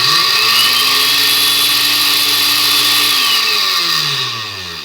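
An Oster Dual-Action blender roars at high speed, a loud, constant whine near the listener, then the motor drops in pitch as it spins down.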